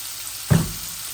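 Dried fish curry sizzles in a pan, with one brief burst of frying as onion and salt are added and then a steady low crackle.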